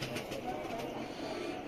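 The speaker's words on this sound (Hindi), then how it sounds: "सुनील भाई माशाल्लाह से बच्चे उड़ाने वाले कबूतर हैं यार" Faint, low cooing from Royal Teddy flying pigeons murmurs softly against a quiet background hiss.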